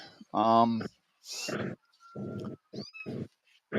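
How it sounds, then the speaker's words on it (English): A litter of five kittens meows in a series of short, close, fairly loud cries with brief pauses between them, some calls higher and thinner than others. "Yeah, 5 kittens, Dave, this time."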